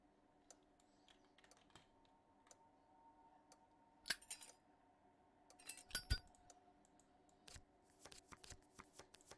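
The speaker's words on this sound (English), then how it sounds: "Shuffle the deck until the images shine with light" A deck of cards is shuffled in an investigative game, heard as faint, soft bursts of riffling and light clicks coming in irregular clusters, quiet throughout and without speech.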